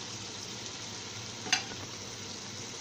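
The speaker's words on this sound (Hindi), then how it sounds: "ये मैंने चंद सेकंड इसको फ्राई किया है" Korma masala with red chili powder, degi mirch and coriander fries in a pan, giving a soft, steady sizzle broken by a single quick utensil tap.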